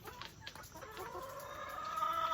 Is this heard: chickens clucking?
yes